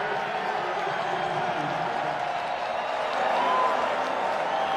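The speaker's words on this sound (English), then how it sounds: "They cheer now to see the Hilltopper punting unit for the first time today." Football stadium crowd at a Western Kentucky at Arkansas college game cheering as the punting unit takes the field, a steady broad roar of many voices that swells slightly toward the end.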